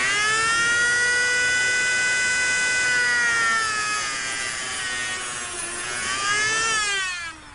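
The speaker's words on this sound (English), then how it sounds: "since the cutting of the shield with the moto tool is a very critical operation, I'm going to play that segment over again" A Moto-Tool rotary tool cutting through the braided shield of coax cable, a high whining steady tone that dips in pitch under load, then rises again before stopping.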